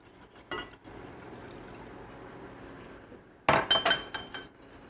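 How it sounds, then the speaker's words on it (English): A whisk clinking against a bowl as milk is stirred into a flour mixture for a festive family recipe, soft metallic taps with a brief louder flurry of clinks near the end. "Just add it in slowly, whisking constantly, and that way you won't get any lumps of flour forming."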